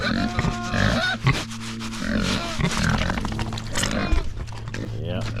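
Pigs grunting in a farm pen in freezing weather, a mix of low grunts and snorts continuing steadily under a person talking nearby.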